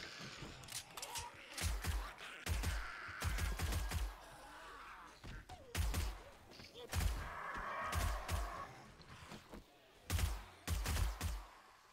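Fully automatic gunfire in the zombie survival game 7 Days To Die during a horde night, a weapon firing in repeated loud bursts of rapid shots with short pauses between them, close and dominant, with someone talking at times.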